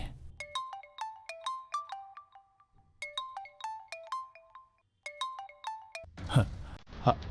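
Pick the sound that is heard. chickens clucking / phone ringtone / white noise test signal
phone ringtone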